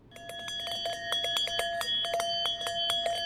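Small copper or iron bells striking repeatedly in a fast, uneven cluster, each hit leaving a bright, sustained metallic ring that overlaps the next, with no voices.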